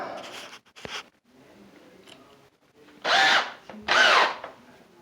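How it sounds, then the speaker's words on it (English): A power drill whirs in two loud bursts of about a second each, drilling holes for a vessel sink install, preceded by quieter tool handling and scraping sounds. "Now we're going to drill."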